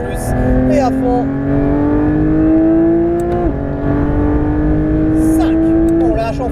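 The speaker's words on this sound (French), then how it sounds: "Allez, c'est reparti, on remet du gaz de plus en plus." A Porsche 911 GT3 RS accelerates hard on the Nogaro race circuit, heard from inside the car: a loud, steady engine note climbs in pitch, breaking briefly at two gear shifts before rising again.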